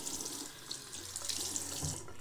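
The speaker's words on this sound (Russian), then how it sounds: "Я сразу умоюсь водой, чтобы лицо было влажное." Tap water running into a sink for face washing, a steady close splashing stream that continues without a break, soft and alone.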